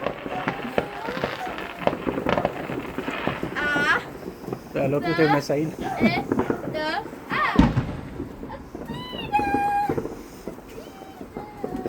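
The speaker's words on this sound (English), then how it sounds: "I'm just looking at the fireworks." Bonfire night fireworks burst and crackle outdoors in scattered pops and booms, some near and some distant. People talk over much of the display.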